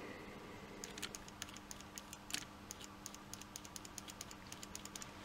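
Fuel injector from a Citroën BX 16 GTi clicking as it is pulsed by hand from a battery during cleaning: quiet, fairly regular sharp ticks repeating alone over a low hiss.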